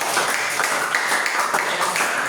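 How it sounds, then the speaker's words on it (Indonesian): Clapping from a group at a class or gathering, a steady dense patter of hands that holds at an even level for a couple of seconds. "Kita kasih tepuk tangan dulu untuk kita semua."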